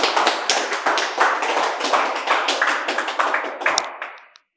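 Applause for a student in a Class 10 chemistry lesson: a brisk run of rhythmic clapping, close and fairly loud, that keeps an even beat for several seconds and then stops abruptly.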